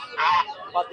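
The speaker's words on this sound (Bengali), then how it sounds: "একদম দেশি হাঁস" Two short honking calls from native Bangladeshi country ducks at a weekly roadside market, one longer then a brief second, close by and fairly clear against quiet surroundings.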